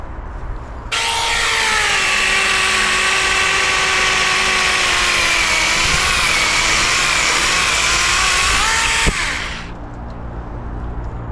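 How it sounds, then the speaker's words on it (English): A tiny chainsaw runs at a steady high-pitched whine while cutting through a tree branch, loud and close for about eight seconds before the engine drops off. "I actually can't believe that that tiny chainsaw has got that much power."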